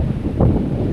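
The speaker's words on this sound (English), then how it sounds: "Very windy and more of a local beach" Strong wind buffeting the microphone on a local ocean beach on the west coast of Luzon near Subic Bay, a loud continuous low roar with gusty swells and faint surf beneath, no voices.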